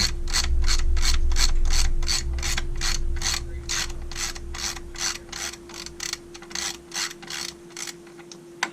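Rapid, evenly paced ratchet clicks work bolts loose on a 6.4 truck with its cab off, close and steady for several seconds before turning into shorter, uneven bursts near the end.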